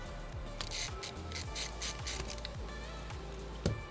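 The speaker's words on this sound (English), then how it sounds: "then we need to get these screws out of here" Screws being backed out of a CPU fan with a screwdriver: a run of short scraping, ratcheting bursts over a steady low mechanical hum, close by, ending in a sharper click.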